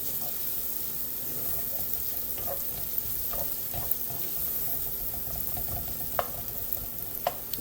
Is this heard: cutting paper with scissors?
no